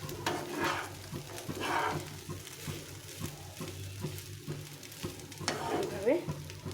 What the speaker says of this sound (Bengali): এইভাবে ভাতটাকে ভালো করে ভেজে নিতে হবে।